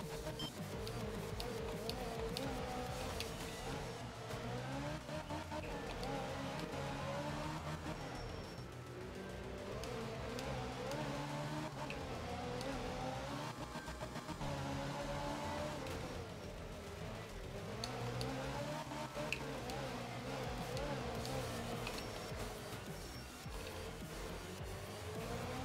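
Porsche Group 2 rally car engine in the racing game art of rally, revving steadily and loudly throughout with pitch rising and falling through gear changes, with no talking.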